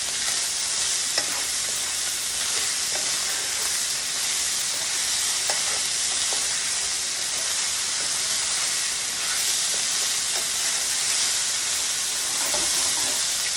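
Halved and quartered tomatoes blister in a hot pan for Italian chicken and sausage bow tie pasta, a dense continuous sizzle and hiss with faint occasional pops and light stirring throughout.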